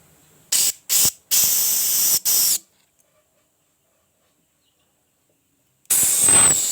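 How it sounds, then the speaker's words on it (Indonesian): Aerosol spray blasted into the hose opening on a Honda Legenda motorcycle: four short loud hissing bursts close together, then a pause of silence and one more sustained spray at the end. "Kita semprot di lubang selangnya ini biar plong."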